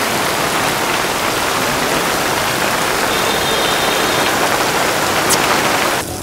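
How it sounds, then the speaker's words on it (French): Heavy monsoon rain pours down in the Mekong delta near Can Tho, a loud, dense, continuous roar of drops on surfaces with no voices. "Bon les amis, il pleut encore"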